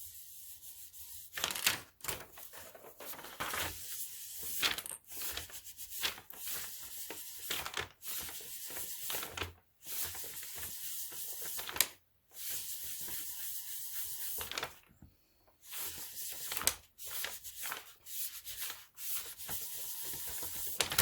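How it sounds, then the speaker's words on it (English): Polymer clay mother-of-pearl inlay medallion being burnished by hand: close, repeated rubbing and scraping strokes in bursts with brief pauses, fairly quiet and without talk. "now we're just going to burnish this all so we don't see any of the edges"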